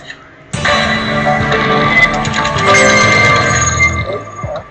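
A telephone rings in the Criminal Case video game, a loud close electronic ringtone starting abruptly and trilling steadily for about four seconds before cutting off.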